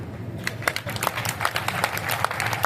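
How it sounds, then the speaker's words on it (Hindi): Audience at a Hindi poetry gathering (kavi sammelan) applauding, a dense patter of many hands clapping at moderate distance for a few seconds, with crowd murmur and a voice mixed in. "आप यहां तालियां नहीं रोक पाएंगे।"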